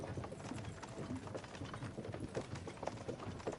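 Horse hooves clip-clop at a steady walking pace in Kingdom Come Deliverance 2, moderately close and fairly quiet, with the even beat of several animals on a road.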